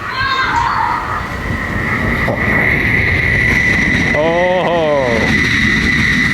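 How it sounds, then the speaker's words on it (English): A Japanese bullet train rushes past an oceanside station with a loud, steady roar, a high whine and a swooping tonal sweep near the end, as a voice gives one brief exclamation. "a bullet train should be passing by here"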